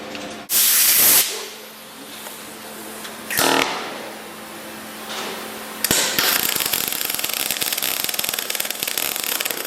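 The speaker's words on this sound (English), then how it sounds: "now we're just going to go to do a plug weld" Short bursts of MIG welding from a Telwin 225 doing a plug weld to fill a hole, a loud hissing crackle that starts and stops, then runs steadily toward the end, close up with no talk.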